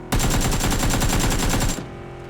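A rapid burst of automatic gunfire in the video game PUBG, loud and close, firing in a fast regular rhythm for under two seconds before stopping abruptly.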